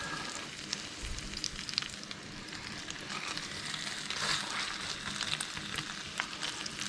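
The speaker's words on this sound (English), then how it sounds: "give them a bit of a cook in some butter" Lobster tails cook in butter in a pan with a soft, steady sizzle. Faint crackles and a few light stirring sounds come through, all fairly quiet and close.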